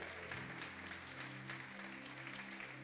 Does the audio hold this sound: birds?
no